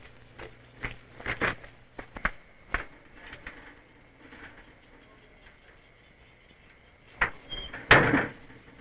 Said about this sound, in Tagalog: Dado, makit ka na sa bakod para mabuksan itong pinto